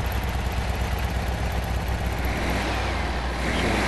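Classic VW Beetle engine idling after a carburetor rebuild, a steady close mechanical rumble with even chugging pulses and no voices.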